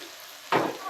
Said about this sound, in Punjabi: ਆਪਾਂ ਫਰਾਈ ਹੋਣ ਦੂੰਗੇ ਤੇਜ ਪੱਤਾ